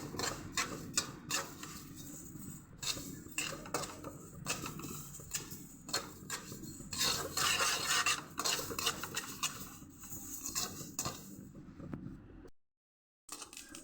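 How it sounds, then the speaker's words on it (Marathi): Flax seeds dry-roasting in a pan while being stirred steadily, a close, continuous dry scraping and rattling of seeds against metal with small ticks and crackles, running alone for several seconds before a brief silence. "जवस चांगले भाजून घेऊया एक एक जिन्नस असे चांगले खरपूस भाजून घ्यायचे"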